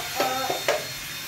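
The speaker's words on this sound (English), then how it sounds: "Press firmly on it and drill very slowly." A power drill bites slowly into a plastic container resting on a piece of wood, making a few short close whirring bursts with brief pauses between.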